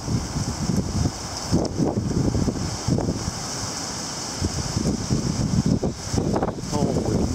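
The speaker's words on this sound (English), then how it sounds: "You can hear the wind approaching." Strong gusting wind of an approaching October wind storm with small hail and heavy rain, roaring steadily close to the microphone in surging bursts, with buffeting noise throughout.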